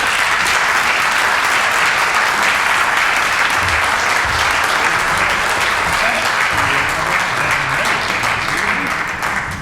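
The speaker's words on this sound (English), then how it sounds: "Please give him a warm applause." A warm, sustained round of audience applause at a memorial concert for an alto saxophonist, loud and continuous for nearly ten seconds, with faint voices in the crowd.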